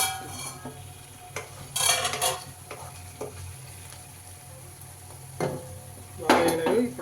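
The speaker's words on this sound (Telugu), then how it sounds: "ఆనియన్స్ అయితే బాగా వేగినాయి" Onions frying in a pan while being stirred for gongura chicken, with a steady sizzle and scraping, clattering spoon strokes in short bursts against the pan, close and fairly loud, with no talking.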